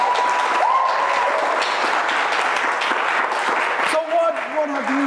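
An audience applauds steadily for about five seconds after a talk-show guest is introduced, a dense wash of clapping with a voice or tonal sound threading through near the end.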